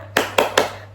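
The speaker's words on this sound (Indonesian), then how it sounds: "Ibu mau kita tepuk semangat bareng-bareng ya" A classroom group doing a rhythmic 'tepuk semangat' cheer, three sharp, evenly spaced bursts of clapping hands, loud and close, with no talking.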